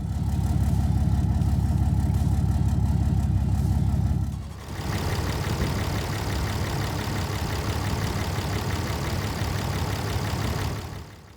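A Cummins diesel engine in a 2500 pickup truck with about 220,000 miles runs steadily with a deep, low rumble, then the tone shifts to a brighter, clattering idle that continues evenly until it cuts off.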